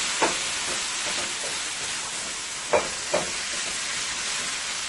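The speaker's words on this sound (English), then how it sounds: "You're going to let your meat fry" Ground beef frying in a pan for cheesy scalloped potatoes, a loud, steady sizzle that hisses throughout, broken by a few brief clicks of a utensil.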